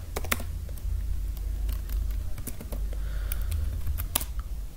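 Fingers type a PowerShell command on a computer keyboard, a close, uneven run of sharp clicky keystrokes over a low steady hum, with no talking.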